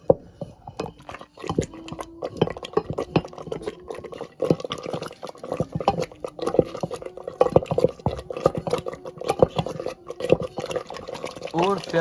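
A spoon stirs harissa with chicken stock in a cooking pot, giving a steady run of scraping, clinking strokes against the metal with some liquid sloshing, fairly close and continuous throughout.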